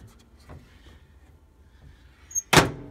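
An RCA microwave door in a hotel room at the Hampton Inn in Cedar Falls, Iowa, gives a few soft handling clicks and then one sharp, loud clack as it shuts.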